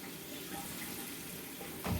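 Tap water runs steadily over trays of sprouting mung beans, a continuous hiss and splash at low volume with a brief louder gush near the end.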